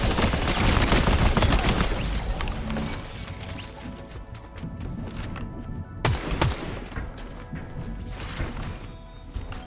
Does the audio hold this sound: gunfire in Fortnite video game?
yes